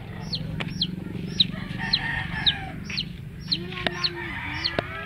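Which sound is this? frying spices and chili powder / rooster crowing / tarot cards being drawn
rooster crowing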